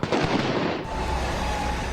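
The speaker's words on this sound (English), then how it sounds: "setting fireworks off at officers" Fireworks set off toward police officers during a street protest, giving a dense burst of crackling pops and bangs over the first second before dropping into a steady crowd-and-street roar.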